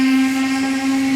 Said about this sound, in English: Whistles roared hoarsely.